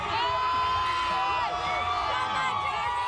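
A dense street crowd at the Kansas City Chiefs Super Bowl parade cheers, whoops and shouts in a steady, loud roar with high excited voices layered throughout.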